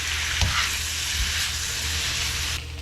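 Onions and peppers fry and caramelize in a hot pan for a Philly cheese steak, giving a loud, steady sizzle with a couple of dull spatula knocks, close up and with no voices.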